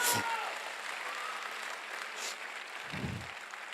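Applause from an audience at a celebration event in Rajgir, Bihar, a diffuse wash of clapping heard at moderate distance, with brief voices and a low thump partway through.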